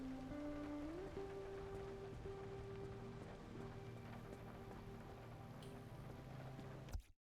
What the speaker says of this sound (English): The rain is okay.